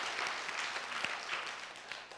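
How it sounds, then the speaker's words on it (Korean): A church congregation claps warmly during a worship service, a dense, continuous patter of many hands at moderate distance with no voices over it. "박수 한번 쳐주세요."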